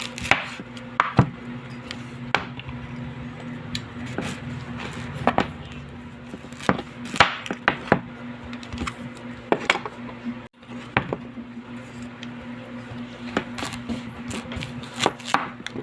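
A knife chops food on a board in sharp, irregular strokes, some clustered in quick runs and others spaced apart, close and clear over a low background hum.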